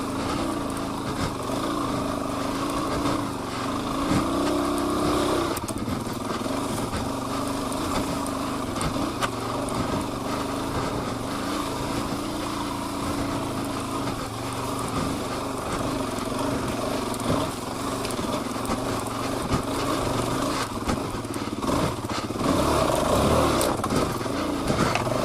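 A motorcycle with a slipping clutch during a group ride, its engine droning loud and close for the whole stretch, holding a steady pitch with slight rises and dips and no speech.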